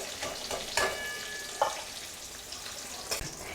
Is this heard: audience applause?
no